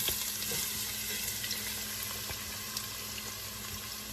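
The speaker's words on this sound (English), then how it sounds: "our pan is a little bit heated up and the oil is hot. So I'm just going to go ahead and add our onions" Onions dropped into hot oil with ginger in a heated pan, a dense continuous sizzle holding steady and close throughout, no voices.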